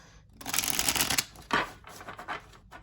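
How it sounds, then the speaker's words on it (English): Riffle-shuffling of tarot cards, a quick ruffling flutter followed by a sharp snap and a few softer bridging riffles, close and alone. "So now let's give them a good old shuffle."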